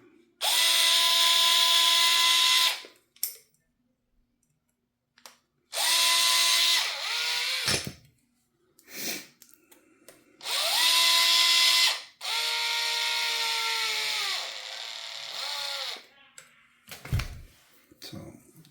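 A power drill drives screws to reassemble RC car parts in several short, loud whirring bursts with rising and falling pitch, close by, separated by quiet gaps filled with clicks and handling noises.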